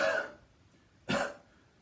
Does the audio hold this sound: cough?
yes